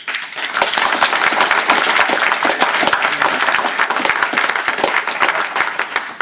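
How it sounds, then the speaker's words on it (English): A large audience at a teachers' union and Green Party education rally claps loudly and continuously, dense sharp hand claps close to the microphone with a faint crowd murmur beneath. "Clap yourselves, that's good."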